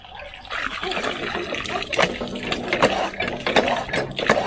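Water poured from a container into a garden vessel at a village farmhouse, a steady close trickling and splashing stream that runs continuously, swelling and dipping in loudness without a break.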